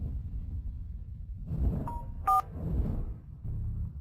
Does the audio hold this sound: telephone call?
yes